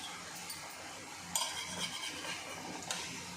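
Fish cutlets frying in a pan, a faint, even sizzle with a couple of soft metallic taps and scrapes as they are flipped over with a spatula.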